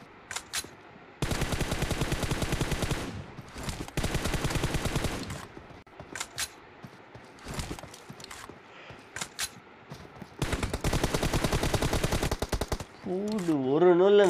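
Rapid automatic gunfire in a shooting video game, loud bursts of several seconds separated by short gaps and scattered single shots, with a warbling electronic tone near the end.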